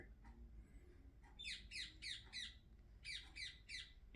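A pet canary, green in colour, gives short bright squawking calls in two quick bursts of three to four notes each, fairly close and clear over a quiet indoor background.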